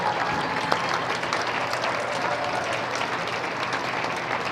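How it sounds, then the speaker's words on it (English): A crowd at a school basketball regional championship game claps steadily and loudly throughout, dense sustained applause with no voices standing out. "we want to give them a huge round of applause."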